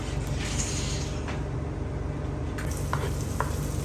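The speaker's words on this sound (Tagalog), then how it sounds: "Nagbawas lang sa amiga ng konting mantika at magigisa na siya dito ang kanyang mga bawang, sibuyas" Garlic and onion sautéing in a little oil for caldereta, a steady broadband sizzle filling the whole stretch with a few sharp utensil clicks near the end, close and continuous, no talking.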